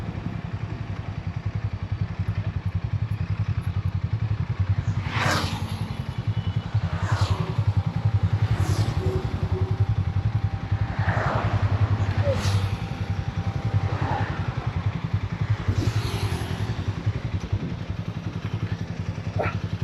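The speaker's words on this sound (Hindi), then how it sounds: "बाइक का थंपिंग सुनो।" A Royal Enfield motorcycle idles nearby on a roadside stop, its engine thumping in a steady low rhythm throughout, with occasional short clicks and clatters above it.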